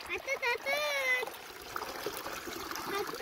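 Water trickles and splashes into a bucket as it fills, heard under people talking, with a cat meowing briefly near the start.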